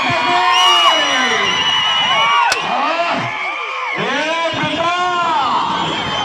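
A loud crowd at an Ongole bull cart-pulling contest during a temple chariot festival in Emmiganur shouts and cheers continuously, many voices whooping and yelling together with rising and falling calls throughout.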